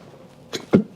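A single short sneeze, fairly close and clear, preceded by a faint breathy intake, against a quiet background.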